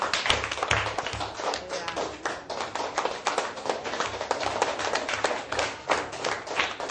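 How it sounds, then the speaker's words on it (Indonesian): Classroom audience claps together, a dense steady patter of many hands held for several seconds at moderate loudness, without talk. "Tepuk tangan ke bawah."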